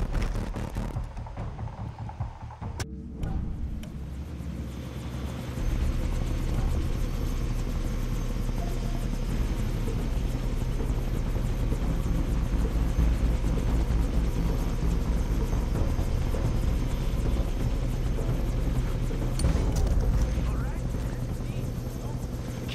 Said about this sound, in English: Can't let them put Ollie in the chopper.